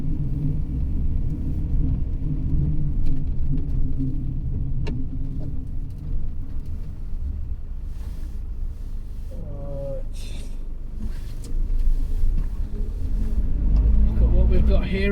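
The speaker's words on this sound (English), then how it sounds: "Driving down to the seafront now" A car drives down to the seafront in Aldeburgh on the Suffolk coast, its low interior road rumble and engine drone steady throughout, easing slightly midway before swelling again. A person talks over it.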